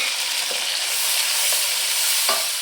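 Masala paste fries in a pan for a nargisi kofta curry, making a loud, constant hissing sizzle. A spoon scrapes through it in a few distinct strokes, with no voices present.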